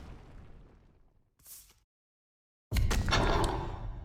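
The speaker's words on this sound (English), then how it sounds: "Mr. Artillery Cannon's going to blow it off the face" Artillery cannon blast in a Horus Heresy Legions game: a loud, broad burst that rings on and slowly fades, with a softer pop earlier in the clip.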